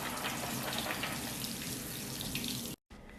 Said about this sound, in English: I soaked them overnight in water in this bowl, and now I'm just draining them until the liquid that comes out is clear.